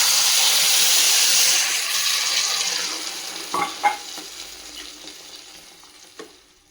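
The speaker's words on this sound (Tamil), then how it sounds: "புளி தண்ணியை இதில் மிக்ஸ் பண்ணலாம்." Tamarind water poured into a hot pan of green chili gravy gives a loud hiss and sizzle that slowly dies down, followed by a few clinks of a spoon stirring the pan.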